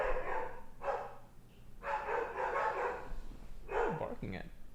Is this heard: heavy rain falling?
no